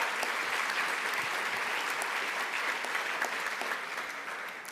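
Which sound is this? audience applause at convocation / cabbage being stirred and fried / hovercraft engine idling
audience applause at convocation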